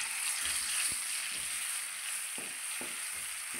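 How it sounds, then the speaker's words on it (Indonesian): Ground spice paste for Indonesian yellow-broth pindang fish fries in hot oil with a steady high sizzle, broken by a few soft stirring knocks of a utensil in the pan, no voices. "panaskan minyak lalu goreng bumbunya terlebih dahulu"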